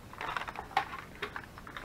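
Paper being cut down to size for a butterfly journal, giving soft rustling and snipping bursts close by with one sharper accent near the middle, no talking.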